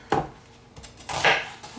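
A Pampered Chef food chopper strikes down on a cutting board, two or three quick clacking chops close by, with no talking.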